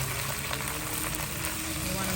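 Baby bok choy stir-fried in hot oil with garlic gives a steady, dense sizzle with faint scraping as the vegetables are moved around the pan, close and continuous for a couple of seconds.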